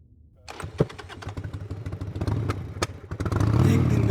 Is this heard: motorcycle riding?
yes